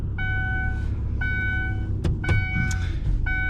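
An old Ford Taurus: a low, steady cabin rumble with a repeating electronic chime tone and a couple of sharp clunks, like a door or latch, near and fairly loud.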